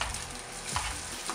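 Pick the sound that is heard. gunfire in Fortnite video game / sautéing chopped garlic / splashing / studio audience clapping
sautéing chopped garlic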